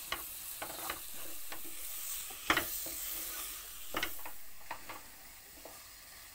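Butter chicken masala being stirred after chili powder, garam masala and sugar go in: a steady low sizzle with a series of sharp spoon scrapes and clicks against the pan, close and alone.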